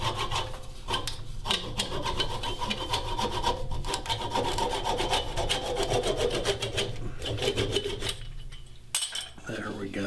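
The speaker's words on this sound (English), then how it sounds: "So go ahead and just saw it off." Rhythmic rasping strokes of a handsaw cutting through a carved maple vase on a lathe, close and continuous, with brief pauses between bursts.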